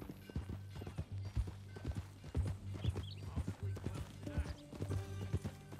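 Horse hooves clip-clop in Red Dead Redemption 2 gameplay, a steady rhythmic run of hoofbeats near and clear, with a brief whinny and some game ambience underneath.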